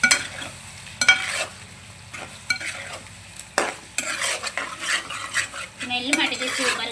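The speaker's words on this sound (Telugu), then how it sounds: "ఇప్పుడు ఒకసారి తిప్పుదాము." Chicken and bottle gourd curry stirred in a pan over low heat: a utensil scrapes and clinks against the metal in irregular strokes over a soft sizzle, close and clear.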